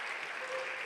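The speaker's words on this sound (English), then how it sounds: "Keep it going if you love your children." Comedy club crowd in NYC keeping up continuous applause, an even, close roar of many hands clapping for a brief moment.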